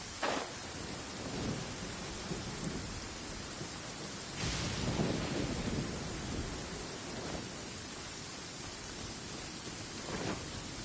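Thunderstorm downpour in the video game Genshin Impact: a steady, dense wash of heavy rain with low rumbles of thunder swelling underneath, loudest around the middle.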